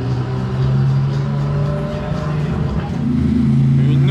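Ferrari sports cars pull away on a race circuit, a continuous mid-pitched engine drone building and shifting in pitch, fairly loud and close, with the note climbing again toward the end.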